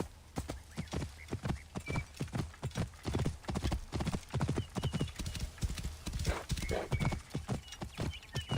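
Steady, rapid clip-clop of horse hooves galloping across ground in Assassin's Creed Origins, a close rhythmic pounding that runs without a break.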